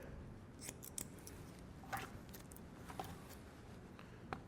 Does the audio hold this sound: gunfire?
no